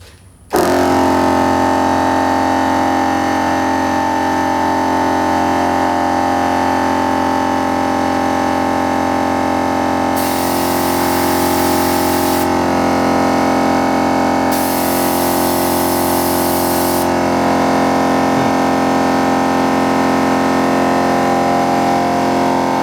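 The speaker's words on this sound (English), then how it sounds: "I'm going to turn the compressor back on and see if we can boost it back up again" A Vevor portable tire inflator compressor pumps up a Jeep tire, starting with a click and then droning loud and steady with a buzzing, harmonic-rich motor whine and bursts of airy hiss, running close by without pause.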